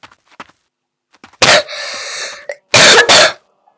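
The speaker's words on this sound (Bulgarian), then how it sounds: "за това ще кашлям" A person coughs close to the microphone: one harsh cough followed by a rasping wheeze, then two quick loud coughs a moment later.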